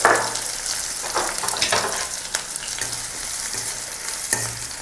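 Medium-size onion frying on low flame in oil tempered with cumin and mustard seeds, a steady sizzle broken by scraping stirs and small crackling pops, close and loud with no talk.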